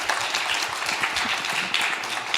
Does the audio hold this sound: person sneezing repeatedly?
no